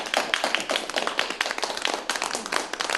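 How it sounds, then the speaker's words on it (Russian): Audience applause at a creative evening with musicians and performers, a steady patter of many clapping hands, moderately close and even, with no talk over it. "Ваши аплодисменты"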